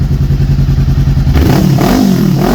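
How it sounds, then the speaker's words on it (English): A 2018 Honda CBR500R motorcycle fitted with an aftermarket exhaust pipe runs close by, its steady idle lifting into a rev and settling back, loud and alone with no voices. "this bike is running with an aftermarket pipe on it"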